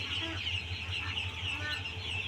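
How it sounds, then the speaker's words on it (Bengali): A farm flock of nearly a thousand ducks, including Peking, Beijing and Khaki Campbell breeds, gives off a dense, continuous chatter of overlapping quacks and clucks close by. "এখানে হাজারের কাছাকাছি হাঁস আছে"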